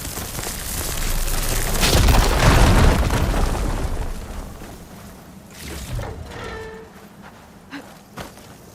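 In Horizon Forbidden West, an igniter destroys a fire gleam with a loud, deep explosive boom that swells and rumbles for a couple of seconds, then fades into quieter ambient game sounds and a few light effects.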